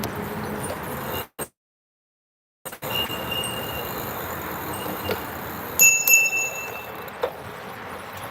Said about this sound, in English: That's why we have the bell.